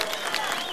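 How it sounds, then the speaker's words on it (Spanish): An audience breaks into loud, dense applause welcoming Peru's president Ollanta Humala at an event in Huancavelica, a brief steady burst of many hands with voices mixed in. "a quien recibimos con muy fuertes palmas"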